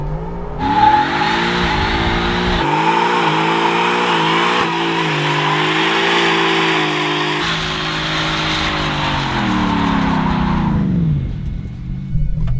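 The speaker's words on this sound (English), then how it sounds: "Yep, she does a burnout." A supercharged Hennessey Venom 800 Ford F-150 race truck does a burnout, its engine roaring loud and steady for about ten seconds with shifting revs and tire noise, then winding down at the end.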